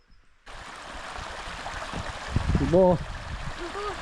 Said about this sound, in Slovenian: potok se že sliši